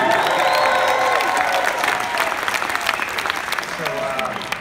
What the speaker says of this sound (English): Give that a big round of applause,